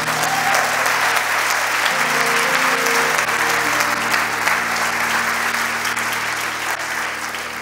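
A church congregation claps in sustained, dense applause that carries on steadily from start to finish.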